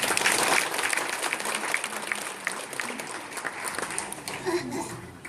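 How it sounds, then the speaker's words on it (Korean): A church congregation applauds a deaconess, sustained broad clapping from many people filling the hall, gradually thinning toward the end with a few voices mixed in. "우리 부인 김경화 집사님 박수로 격려하겠습니다."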